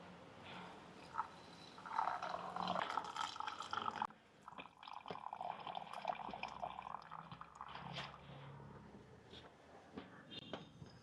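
Second coconut milk poured into fermented rice porridge (pazhankanji), a soft liquid trickle with drips and splashes running through most of the clip, moderately close with a faint background hum.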